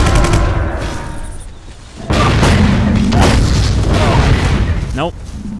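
Heavy booming shell blasts and explosive rumble in the Vivisector: Beast Within video game, loud and continuous, with a sudden stronger blast midway, partly under someone talking.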